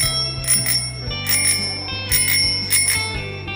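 A bicycle bell rings in four quick bursts of bright metallic trills spaced about a second apart, loud and close, over a steady low musical drone with no talking.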